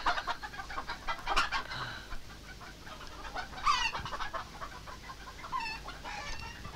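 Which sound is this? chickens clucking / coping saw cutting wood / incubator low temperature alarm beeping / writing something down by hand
chickens clucking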